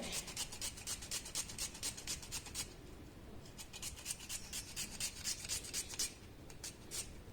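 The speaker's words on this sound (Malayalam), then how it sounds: "ഒരു ചെറിയ സവോള എടുത്ത് ചെറുതായിട്ട് ഇതിൻ്റെ കൂടെ ചെറുതായിട്ട് തന്നെ" A knife finely chopping a small onion on a board for a long bean stir-fry, with quick, close, rhythmic rasping strokes in two bursts separated by a brief pause near the middle.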